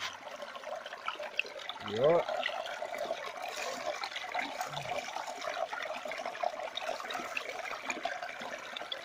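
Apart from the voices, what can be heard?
water flowing through a gold prospecting sluice mat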